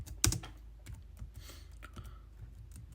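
Computer keyboard typing while entering C++ code, a burst of quick close key clicks with one louder strike near the start, then scattered lighter taps, heard alone without talk.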